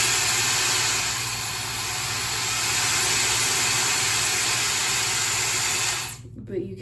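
A Shark FlexStyle hair dryer runs loudly with a steady broadband whoosh of rushing air and a constant motor hum for about six seconds, then cuts off abruptly, leaving near silence.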